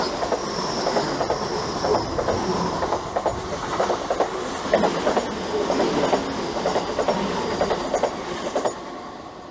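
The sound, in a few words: train passing into tunnel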